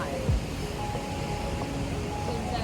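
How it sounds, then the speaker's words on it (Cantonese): Big ocean waves crash onto a beach in Bali in a steady, broad roar of surf that stays fairly even throughout. "超級大浪喎！"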